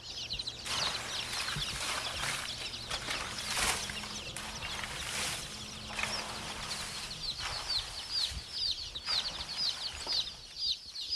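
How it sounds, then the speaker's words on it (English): Hundreds of baby chicks, discarded by the egg industry, pile together in a dumpster and chirp continuously in a dense, high-pitched chorus that pulses in waves, with occasional rustling and knocks below. "we saw hundreds of baby chicks that were stumbling on top of each other"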